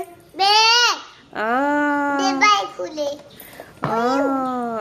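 A voice imitates a goat with three long, wavering bleats, the middle one stretched out and broken, close and clear.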